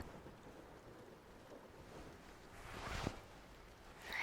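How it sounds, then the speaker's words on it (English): A summer thunderstorm rumbles in the distance, a soft, low roll of thunder swelling briefly near the end over a steady wash of wind and rain noise. "the soft rumbling of thunder."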